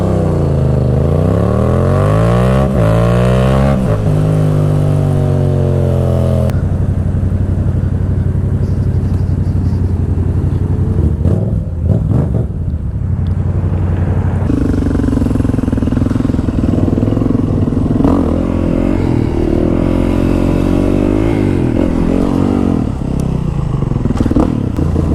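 A 250 motorcycle with an aftermarket exhaust revs hard and loud up close, its engine pitch sweeping up and down through repeated throttle blips and sustained high revs, with some clattering mechanical noise, no voices.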